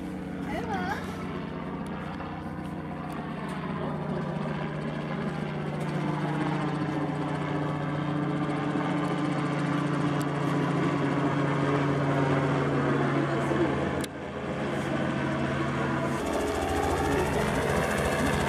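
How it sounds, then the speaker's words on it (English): A steady, heavy rotor thrum drones on nearby, loud and continuous, with people talking faintly underneath. "And here comes a helicopter."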